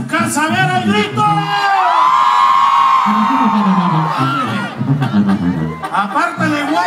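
At a live concert, a crowd of men roars on cue in a loud, sustained shout that swells and fades, with a voice over a microphone before and after.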